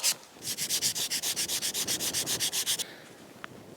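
Rapid, rhythmic rubbing strokes of sandpaper on an irrigation pipe, about twenty quick back-and-forth passes, close and steady, then stopping.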